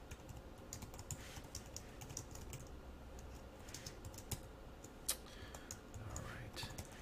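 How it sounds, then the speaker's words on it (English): Typing on a computer keyboard while writing JavaScript code, soft close key clicks in quick irregular runs over low background noise, with one sharper tap standing out. "I can speed along my typing"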